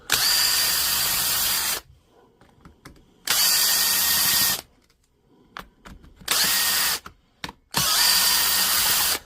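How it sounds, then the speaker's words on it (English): A power driver spins out screws from a DeWalt power tool during a repair, three long loud whirring bursts separated by quiet gaps with small clicks and handling noises. "we'll just pull out the 8 screws we have to get this thing going."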